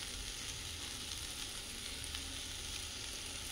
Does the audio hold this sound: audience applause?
no